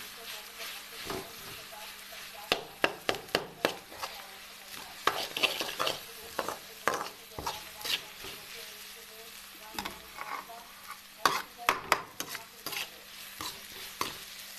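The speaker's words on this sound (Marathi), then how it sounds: "शेंगदाणा हिरवी मिरची आणि नमक टाकून घेतले आता हे फ्राय करून घेते" Peanuts, green chillies and salt fry in hot oil as a spatula stirs them with repeated scraping strokes against the pan, a steady sizzle underneath and a voice talking at times.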